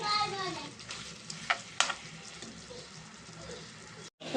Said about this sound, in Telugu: దీన్ని మనం మూత పెట్టుకొని స్లో ఫ్లేమ్లోనే మనం ఫ్రై చేసుకోవాలండి దీన్ని